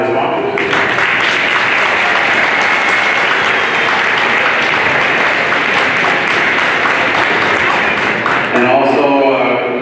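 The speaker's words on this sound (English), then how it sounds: "A little round of applause for our sponsors." An audience at a high school girls' basketball finals game applauds steadily, dense clapping filling the whole stretch at a loud, even level before easing slightly near the end.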